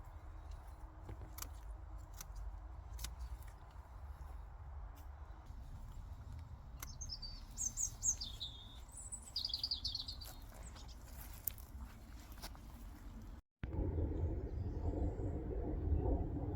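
Birds chirp at a garden allotment on a frosty autumn morning with a magpie nearby; a short burst of chattering calls rises midway over a low, steady background rumble.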